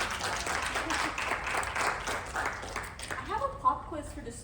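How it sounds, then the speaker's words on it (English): Applause from an audience at a chapter meeting, a moderate wash of clapping that tapers off as a voice starts speaking near the end. "So another round of applause."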